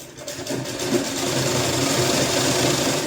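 A sewing machine runs steadily at close range, stitching a firm seam on a sleeveless kurti with a fast, even whirring hum that builds and holds.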